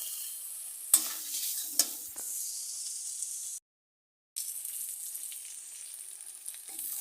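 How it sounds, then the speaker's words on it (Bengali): Pieces of hilsa fish sautéing in hot oil with chili powder, a steady close sizzle and hiss with a couple of sharp stirring clatters early on, briefly cut to silence before the frying resumes. "এখন মাছগুলো দিয়ে দিচ্ছি দু মিনিট মতো কষে নেব"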